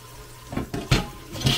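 Tap water running and splashing to make soapy water in a garage while working on a car, several short gushes and splashes close by.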